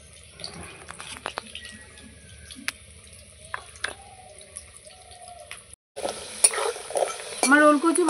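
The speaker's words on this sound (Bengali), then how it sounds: "আমার ওলকচু ভাজা হয়ে গেছে" Pieces of elephant foot yam fry in hot oil in a pan. They are stirred with steady sizzling and scraping, and after a brief pause the sizzle surges louder and busier.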